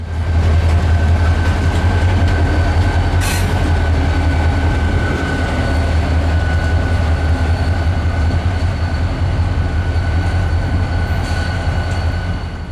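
A retro blue Florida East Coast Railway GP40-2 locomotive rumbles past on a shove move, a loud steady low engine drone with rolling wheel noise and a faint high whine, brief squeals near the start, no voices.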